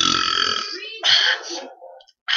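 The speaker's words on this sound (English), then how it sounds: "I'm gonna try and do a very big burp today" A long, loud, deliberate burp from a man trying for a very big one, a drawn-out croaking belch at close range that trails off into a second shorter burst before another starts.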